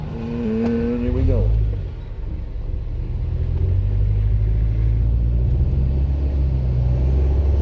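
Car driving along coastal Route 1A in New Hampshire near Rye Harbor: a loud low engine rumble rises as it passes, then a steady droning drive-off. Someone speaks briefly at the start.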